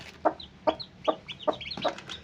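A hen with newly hatched chicks clucks in a steady, soft rhythm about every 0.4 seconds on a village farm, close by, while the chicks' thin high peeps chirp in between.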